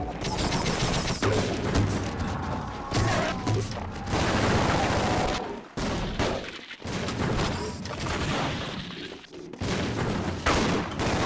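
Half-Life weapons fire in rapid, dense bursts of gunshots and booming blasts, loud and nearly continuous across the stretch with brief gaps between volleys.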